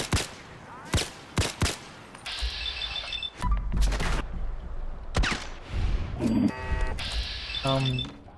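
Fully automatic rifle fire in Fallout 4 as sharp gunshots in short bursts and single cracks, up close, with game effects and a louder thump in between.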